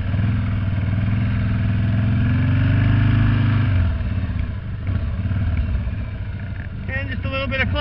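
A Harley motorcycle engine roars loudly up close as the leaning bike drifts on snow, the throbbing revs easing off partway through into a lower rumble, with someone talking over it.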